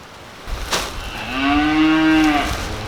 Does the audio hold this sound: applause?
no